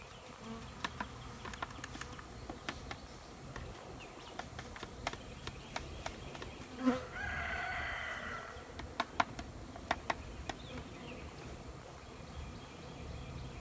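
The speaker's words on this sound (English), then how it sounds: "A lot of bees in here." A continuous buzzing of a close swarm of many bees, steady and low, with occasional sharp clicks and knocks.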